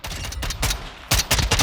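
Rapid bursts of tactical weapon fire in Call of Duty Modern Warfare II, sharp close shots fired as fast as possible in quick clusters with a brief pause between volleys.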